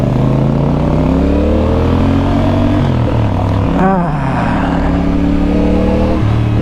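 A CF Moto 450 CL-C motorcycle engine pulls away with a rising rev partway through, the hum heard close and steady throughout, with a brief pitch sweep as the bike gets moving.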